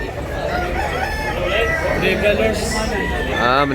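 Rooster crows amid other clucking fowl at a busy gamecock market in Tabunok, Cebu, where several people talk loudly close by over the birds.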